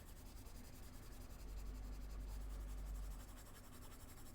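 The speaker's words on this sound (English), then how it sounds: "So I'm just lightly scratching over the top of the paper." A Prismacolor colored pencil scratches lightly across paper, making a faint, continuous dry rasp with no voice over it.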